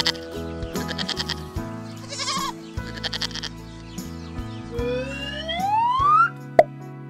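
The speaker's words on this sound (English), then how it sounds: "This is goat." A goat bleats in several wavering, nasal calls over a steady musical backing, followed by a rising whistle-like sweep and a short pop at the end; no talking.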